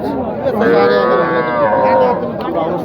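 A cow gives one long, loud, close moo lasting about two seconds at a busy cattle market where small bulls and heifers are sold, with faint crowd murmur behind it.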